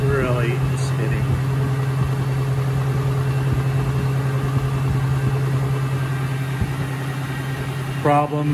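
A GE WWSE5240G3WW washing machine spins after its slow-spin fault was repaired, giving a loud, steady whirring drone at close range with brief vocal sounds near the start and end.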